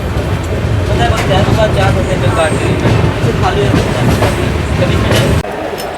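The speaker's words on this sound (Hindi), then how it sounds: "तो हमारी ट्रेन का डिपार्चर हो रहा है पटना साहिब रेलवे स्टेशन से" A train departs Patna Sahib railway station, its locomotive and carriages rumbling loudly and steadily close by, with wheel clatter and faint voices in the background before the sound drops abruptly near the end.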